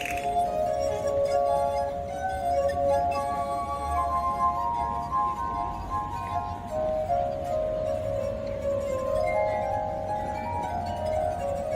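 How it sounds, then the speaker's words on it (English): Ringing tones of rubbed water glasses, sustained and shimmering, sliding between pitches in a slow continuous melody. "This is the sound of water glasses."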